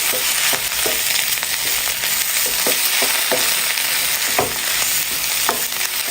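Boiled potato pieces stirred in a frying pan under a loud, steady sizzle, with repeated utensil scrapes and taps breaking through, close and continuous.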